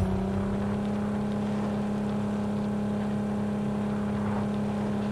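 A car's engine in the video game Ring of Elysium drones steadily and loudly throughout, with a constant humming tone of driving and no talk over it.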